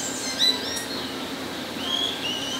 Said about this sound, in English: Birds are loud as shit.